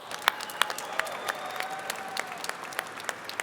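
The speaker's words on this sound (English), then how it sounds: "Give yourselves a round of applause" Sparse, scattered clapping from a small group at a Ford event celebrating the electric F-150, individual claps standing out unevenly rather than a full roar, moderately quiet.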